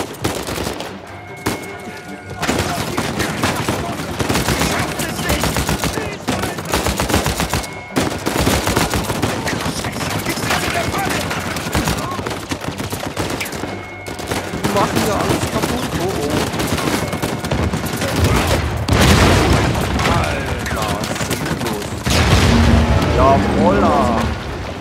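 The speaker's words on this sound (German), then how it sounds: "Die schießen ja hier alles kaputt." Heavy gunfire fills a battle in Uncharted 4, dense bursts and booming shots running almost continuously and loud, with someone speaking over the shooting.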